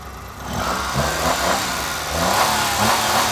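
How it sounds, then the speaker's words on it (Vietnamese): A Daewoo Matiz Super car engine runs steadily close by, with a continuous mid-pitched hum and slight fluctuations like light revving. No voices can be heard over it. "Đấy các bạn nghe tiếng động cơ xem có chất không."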